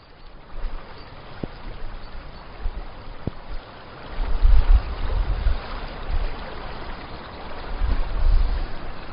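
Water of the River Wharfe pours over a small weir, a steady broadband rush that swells louder midway and again near the end, running on without any talk.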